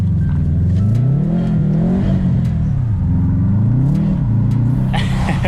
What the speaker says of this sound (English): Let's do a fucking clutch burnout.